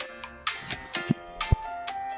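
A mobile phone rings in The Sims video game, a short melodic electronic ringtone with chirpy bursts and tonal notes, fairly close, with no speech.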